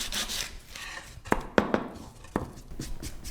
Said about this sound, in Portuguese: Mas primeiro dá uma boa lixada, usa uma lixa grossa e depois uma lixa fina